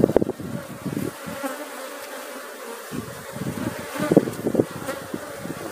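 Apis honey bees buzzing around an open hive, a dense, close, continuous hum of many wings with small swells and dips in intensity.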